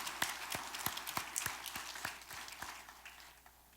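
A church congregation applauds to encourage a member at a worship service, producing a moderate wash of clapping with a loose, steady beat that slowly fades over a few seconds.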